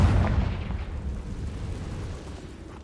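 A Confringo fire spell explodes in Hogwarts Legacy, one loud booming blast that decays into a rumbling tail over about three seconds, heard alone.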